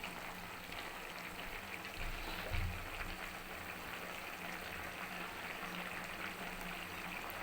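Mutton korma with tomato, onion and chilli frying in a pot, a faint continuous sizzle and bubbling with a soft stir or clunk partway through, quiet and unbroken.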